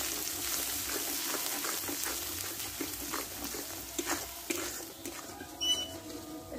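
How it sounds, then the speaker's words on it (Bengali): Dry chili powder and salt with spices sautéed together in a hot pan, a steady close sizzle and crackle with occasional scraping stirs of a spoon, no voices. "দিয়ে মশলাটা এবার একসঙ্গে ভালোভাবে কষে নেব।"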